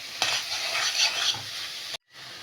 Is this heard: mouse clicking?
no